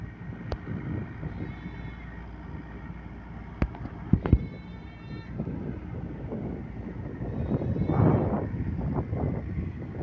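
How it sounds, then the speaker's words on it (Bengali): A river trawler's motor chugs and hums while drawing nearer, a low continuous drone under wind buffeting the microphone, with a couple of sharp knocks midway and the engine noise growing louder toward the end. "কাছাকাছি আসতেছে ট্রলারটা।"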